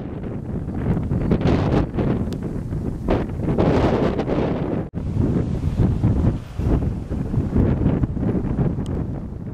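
A strong wind blows during a snowstorm outside Beacon Hill Station in South Seattle. It roars loud and close, gusting and buffeting the microphone almost without pause, with one brief lull midway.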